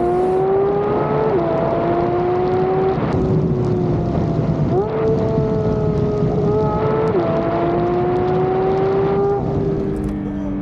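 A Porsche 911 992 GT3 with a Stage 1 tune revs loudly and steadily, its engine note repeatedly climbing and dropping back over about ten seconds, close and unbroken.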